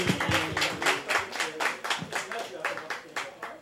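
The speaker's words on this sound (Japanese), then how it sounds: "拍手。" Audience clapping at a live stage show, a steady patter of hands at moderate level with talk and a low tonal sound running underneath throughout.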